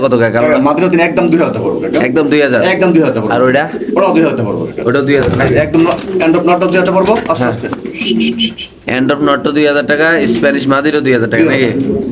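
A male Andruf pigeon coos in low repeated rolls, largely buried beneath someone talking loudly and continuously nearby.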